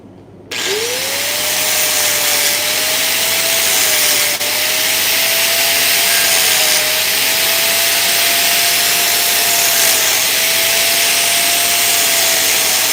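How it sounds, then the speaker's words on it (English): An angle grinder grinds down a weld bead at a tie-in before beveling, a steady, loud, high whine that starts abruptly and holds continuously with a slight pitch wobble, heard alone. "just watch out with that grinder"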